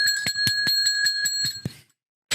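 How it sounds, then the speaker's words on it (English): A bright bell rings in quick repeated strikes for about two seconds inside the Football Manager 2023 video game, loud and alone before cutting off. "Ring that bell."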